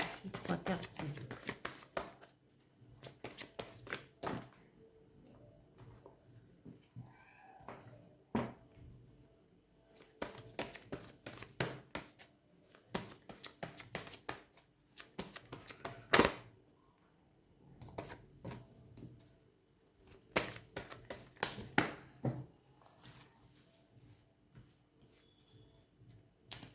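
Tarot cards are shuffled by hand in repeated quick riffling bursts separated by short pauses, fairly close and quiet, with a voice talking softly at times.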